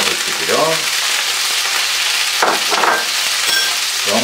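Squid sizzles loudly as it goes into hot oil in a pan while cooking a fideuà, with a dense, steady crackle and spit that surges briefly in a few places.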